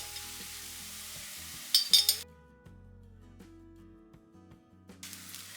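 Chicken thoran is stirred in a pan, with a few sharp metallic clinks of a spoon against the vessel and soft scraping over a faint sizzle, fairly quiet and close.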